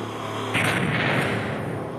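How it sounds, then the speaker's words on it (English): A rocket launcher fires in the VR shooter Population: One, a sudden loud blast that rolls into a broad, roaring rumble and decays over about a second and a half. "Rocket launcher."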